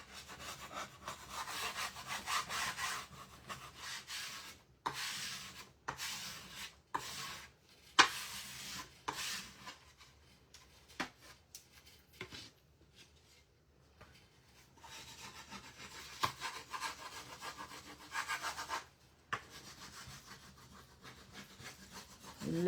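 Repeated scraping and rubbing strokes work paint off a small wooden craft star, irregular rasping passes with short gaps, close and fairly quiet, no voices.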